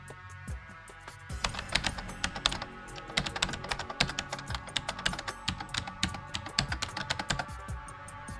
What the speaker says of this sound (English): You're typing a little bit fast